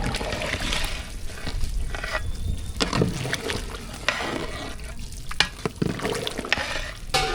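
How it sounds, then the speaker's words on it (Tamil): Chicken biryani bubbling in a pot, a dense continuous boil with clicks and scrapes of a ladle or lid close by, moderately loud throughout. "பிரியாணி நல்லா கொதி வந்துருச்சு"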